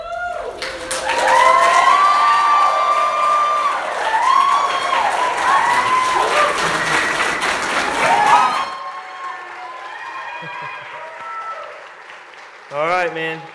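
A church congregation applauds and cheers after a baptism during a full Sunday service, sustained clapping mixed with whoops and crowd voices, then fading as a voice speaks.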